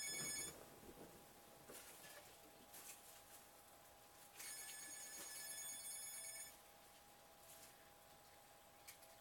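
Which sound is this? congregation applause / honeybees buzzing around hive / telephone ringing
telephone ringing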